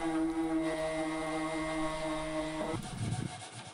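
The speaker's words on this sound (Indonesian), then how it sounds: "Kemudian saya amplas menggunakan sander." Power sander working over a wooden TV cabinet, a steady humming whine that shifts into a rougher, grittier buzz near the end.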